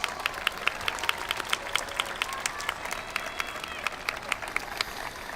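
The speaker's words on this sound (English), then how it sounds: "give your parents a round of applause" Audience applause at a high school graduation ceremony, a broad, continuous wash of clapping from a large crowd, steady and fairly distant, with individual sharper claps standing out.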